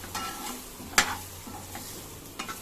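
Spices fry in a pan for a radish sambar, giving a low sizzle broken by a sharp scrape of a spoon and a few lighter stirring strokes.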